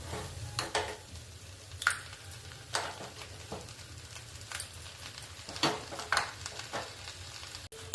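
Radish frying in a pan sizzles steadily, with a paste being added and stirred in. A spatula scrapes and taps against the pan now and then, fairly close and moderately quiet.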